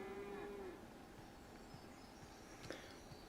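A cow moos once, fairly faint and somewhat distant on a farm, followed by low outdoor ambience with soft thumps.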